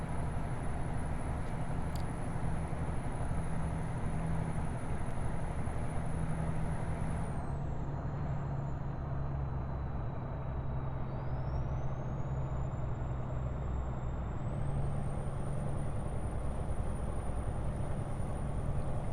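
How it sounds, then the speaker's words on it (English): A steady high-pitched turbo whistle rides over a constant low Caterpillar truck engine drone in American Truck Simulator, dipping and rising in pitch partway through. "I'm pretty sure my truck has a Caterpillar engine just from the fucking whistling that you hear."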